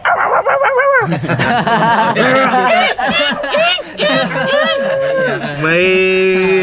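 A dog yips and whines in loud, wavering bursts, rising into a drawn-out howl near the end, with voices and laughter mixed in.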